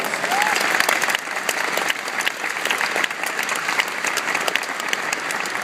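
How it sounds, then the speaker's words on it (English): An audience at a university event applauds their president, steady dense clapping from many hands filling the room, fairly loud and sustained without speech. "Give your president a big round of applause"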